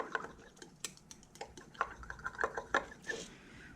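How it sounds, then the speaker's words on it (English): Resin mixture being stirred for an open pour, a quiet, close scraping and clinking of a stick against a cup in irregular light taps. "It's starting to set up, so I gotta get mixing"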